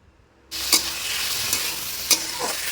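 Chopped tomatoes tipped into a pan of golden-brown fried onions for a village-style chicken curry cooked without water. Sudden loud sizzling breaks out and carries on, with a few sharp spatula scrapes as it is stirred.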